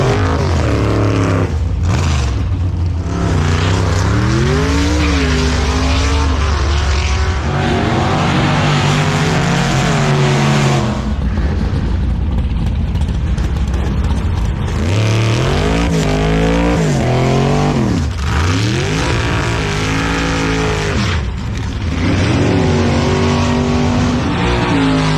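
Drag racing cars at a strip beside a car show rev and accelerate hard, loud engine roars with several rising pulls and brief dips, a continuous dense racket with no talk.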